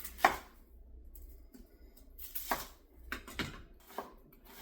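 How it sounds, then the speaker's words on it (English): A knife dices onions on a cutting board, sharp irregular chops with short pauses between them, close and fairly quiet, in a home kitchen. "Then I'm going to cut up 2 onions."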